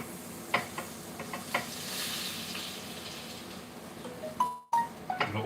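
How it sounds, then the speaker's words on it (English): King prawns and mussels in a spicy sauce sizzling in a hot pan, a faint steady hiss with scattered crackles and utensil clicks, and a brief louder clatter near the end. "Look what that sizzling was then."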